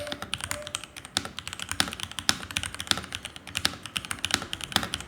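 Rapid typing on a newly built mechanical keyboard with smooth, factory-lubed switches and stabilizers produces a steady stream of close, crisp keystroke clacks, with some louder strikes mixed in and no talking.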